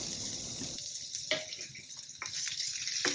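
Chopped ginger and green chillies fry with asafoetida in hot oil, a soft steady sizzle with brief bright crackles over a few seconds, with no talk.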